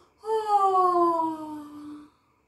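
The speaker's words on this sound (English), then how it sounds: "Yes, this is called as yawn." A single drawn-out yawn with a voiced, moaning tone that slowly falls in pitch over about two seconds, close and clear, with no other sound around it.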